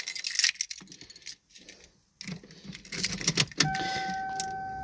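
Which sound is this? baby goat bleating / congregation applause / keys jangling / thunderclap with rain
keys jangling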